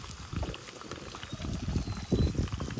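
Pieces of meat frying in a pan over an outdoor fire, a steady close bubbling sizzle that swells and fades without a break, with no voices.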